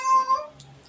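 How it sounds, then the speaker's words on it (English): A house cat gives one short, tonal meow that fades quickly, fairly close and clear against a quiet room. "I'm sorry about my cat."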